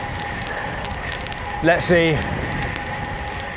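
Rain patters and crackles steadily around a cyclist on a ride near Exeter, UK, with a brief spoken phrase over the wet hiss midway.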